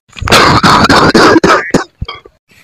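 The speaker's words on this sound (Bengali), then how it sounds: "বাবার কাশিটা আবার বাড়ছে দিন দিন" An elderly man's worsening cough: several harsh, loud coughs come in quick succession at close range, then trail off into a few softer rasping breaths.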